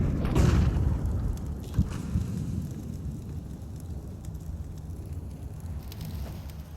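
A grenade detonates during a professional Counter-Strike match, a dull boom near the start that fades into a low rumbling tail under crowd and ambient game noise.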